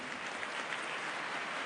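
Applause from a studio audience on an Indonesian television talk show, a dense, steady wash of clapping heard alone at a moderate, even level for under two seconds.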